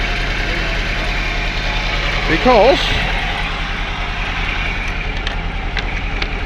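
Car engine idling steadily after a set of four spark plugs was replaced, a continuous low hum close by, with a person speaking briefly over it.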